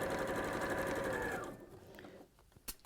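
A sewing machine runs steadily and loudly while stitching a cushion seam, the whir stopping after about a second and a half, then quiet with faint handling and one sharp tap near the end.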